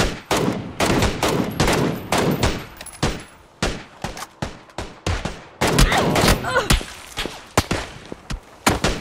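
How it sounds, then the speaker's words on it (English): Bursts of gunfire from an opposing squad in PUBG on the Erangel map crack out in rapid, repeated volleys, loud and close, with short pauses between strings of shots across the whole stretch. "Getting shot from that other team."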